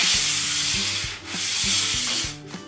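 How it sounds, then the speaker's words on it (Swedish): Fine sandpaper is stroked lightly over painted furniture finished in milk paint, giving a close, loud, continuous rasping rub in long back-and-forth passes with brief dips between strokes and no talk. "Och då behöver jag bara ett jättefint sandpapper, och så stryker man liksom bara över."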